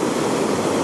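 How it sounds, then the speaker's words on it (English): Ocean waves at Calangute Beach in Goa make a loud, continuous rushing roar of surf, close and unbroken, with no voices. "here comes the wave"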